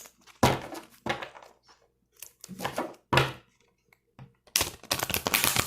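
Large oracle cards are shuffled by hand in several separate bursts, quick riffling and slapping sounds with short pauses between, close by.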